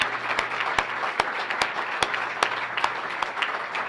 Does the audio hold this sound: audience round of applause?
yes